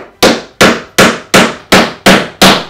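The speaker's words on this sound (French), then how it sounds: "On va tout coller et clouer" Seven sharp, evenly spaced hammer blows drive nails into a hard wooden IKEA desk frame being customised, each strike loud and close with a quick decaying ring, no voices.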